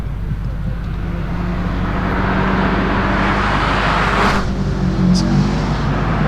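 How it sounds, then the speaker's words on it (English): Volkswagen Golf R competing at the Legend of the Lakes hillclimb, its engine note held steady and fairly loud throughout, with a brief higher whine near the end and no talk over it. "Car number 76, Golf R. These are quick cars."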